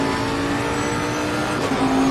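GT race car engines in a racing video game at the Zolder circuit drone steadily with a sustained tonal whine, holding a constant pitch before a slight shift near the end.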